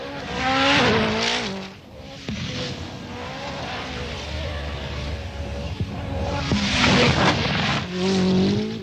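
A Peugeot 405 rally car in Dakar testing, on African terrain, drives past with a loud revving engine that rises and falls as it passes, swelling near the start and again near the end.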